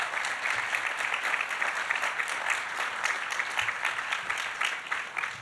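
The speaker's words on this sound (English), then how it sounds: "I would like us to give a round of applause for all the faculty at Grand Valley and the staff" An audience at the 2023 Grand Valley State University address applauds faculty and staff, sustained dense clapping from a large crowd filling the room at steady loudness throughout.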